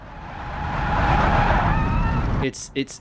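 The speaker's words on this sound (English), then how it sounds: "I've never heard an engine make that sound before, or the wheels make that before" A 1970s GT race car engine in a video game roars and rises in pitch as tires screech in a long skid, then cuts off into short bursts of talk.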